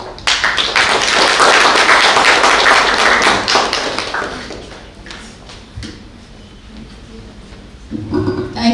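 An audience applauding at a World Mental Health Day talk, a dense, loud burst of clapping that gradually thins and fades, followed by faint movement and a few voices near the end.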